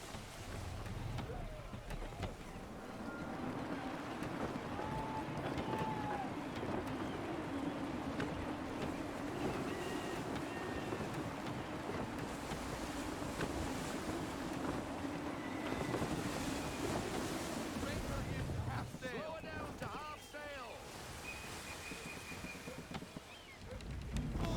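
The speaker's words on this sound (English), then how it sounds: "Wind looks to be shifting. Stay alert, Connor. Gusty winds can be difficult to manage." Gusty sea wind rushes steadily around a sailing ship in Assassin's Creed 3, blending with waves, creaking hull and a low rumble throughout, and a voice speaks briefly over it.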